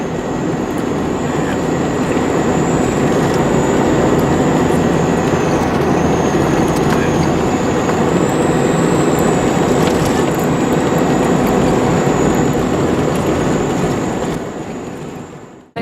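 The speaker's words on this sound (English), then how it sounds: "the wind is blowing, as you probably hear" Strong wind roars continuously and loudly across open farmland between Beulah and Roseberry, a dense broadband rush with a steady high whine running through it.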